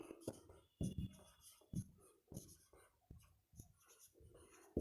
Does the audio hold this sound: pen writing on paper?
yes